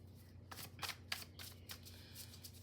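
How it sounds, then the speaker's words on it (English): Playing cards shuffle in several quick riffling bursts, soft and close, over a faint low electrical hum. "We're gonna shuffle one more time"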